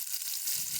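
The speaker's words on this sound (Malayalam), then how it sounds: "കടുക് പൊട്ടിക്കഴിഞ്ഞ ഉടനെ തന്നെ നമ്മൾ ഉള്ളി ഇടുവാണ്" Chopped onion hits hot oil just after mustard seeds have finished popping, cooking for a Kerala yam theeyal; a steady, close sizzling hiss fills the whole short moment without any voices.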